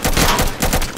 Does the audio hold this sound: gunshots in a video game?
yes